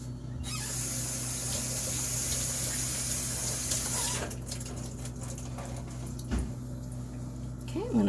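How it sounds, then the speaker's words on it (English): Running tap water pours steadily as hands are rinsed during meatloaf preparation, a continuous close hiss with a low hum beneath, ending with a few brief splashes and clatters. "Let me rinse my hands really fast."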